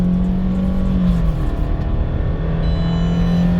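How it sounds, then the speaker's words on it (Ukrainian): A 2018 Subaru Forester Premium with a 2.5-litre engine and automatic transmission pulls away from a standstill, its engine drone heard from inside the cabin, rising steadily and loud with a shift partway through. "Рушаємо з місця, ми розганяємося від нуля до сотні, їдемо ми в горочку і в поворот."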